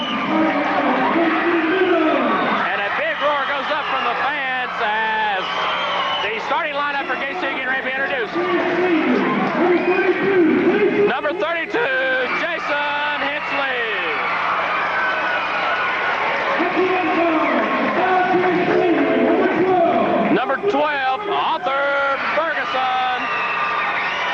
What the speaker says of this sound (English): A good crowd on hand here tonight.